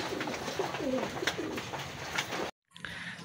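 Racing pigeons coo close by in a loft after a race, soft throaty calls repeating over a steady background. The sound cuts off briefly near the end and then resumes faintly.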